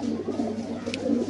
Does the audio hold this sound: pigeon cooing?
yes